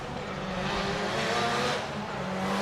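A drift car at Formula Drift Japan qualifying at Okuibuki initiates a run, its engine a continuous loud roar with tire noise sustained through the whole short burst, heard from trackside.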